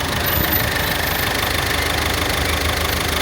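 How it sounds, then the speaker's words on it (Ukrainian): A Peugeot 2008 1.5-litre four-cylinder turbo diesel engine idling nearby, a steady, rough mechanical rumble with a faint knocking rhythm and no talking. "Дизельний, півтора літровий, чотирьохциліндровий турбований двигун"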